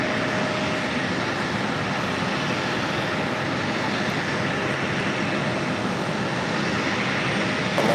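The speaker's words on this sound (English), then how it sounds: "This flight coming in from Indianapolis, Delta Connection, Flight 5116. That's a CRJ 900 LR." A Delta Connection CRJ 900 LR regional jet at JFK gives off a continuous, fairly loud engine rumble and hiss that stays level from start to finish.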